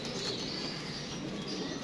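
Pigeon wings flap and flutter near the listener over a steady background of cooing flock sounds, with a few faint chirps and no talk.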